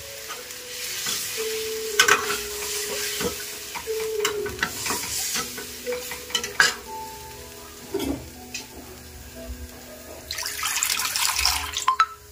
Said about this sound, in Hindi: कढ़ी उबल रही है